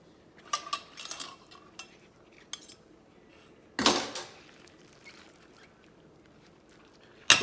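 A spoon scrapes and clinks against a bowl while mixing a salmon burger mixture, in sparse, quiet, irregular bursts with one louder scrape and long pauses between.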